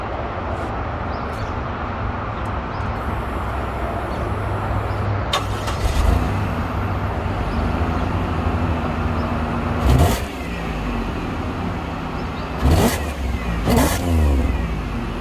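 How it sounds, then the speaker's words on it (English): A 2000 Buick Regal GS engine with an aftermarket cold air intake runs steadily at idle, with a few sharp revs rising and falling near the end, close and loud. "let me start the car for you guys."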